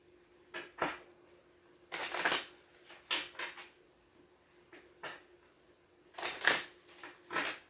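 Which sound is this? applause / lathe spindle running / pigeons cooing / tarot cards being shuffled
tarot cards being shuffled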